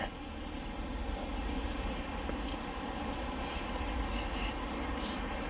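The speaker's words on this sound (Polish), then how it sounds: "Lokomotywa ciągnie skład z węglarkami trochę podrapanymi." Steady low rumble and droning of a passing PKP ET22 electric locomotive pulling scratched coal wagons, continuous throughout with a faint mechanical whine on top.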